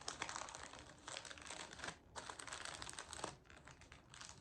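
Wrapping paper folded over a square gift box, close, crisp crinkling and rustling in bursts with brief pauses.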